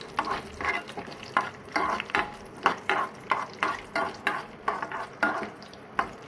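Cashews and raisins frying in melted ghee, a close sizzle broken by a regular rhythm of stirring scrapes, roughly two strokes per second, with no voices.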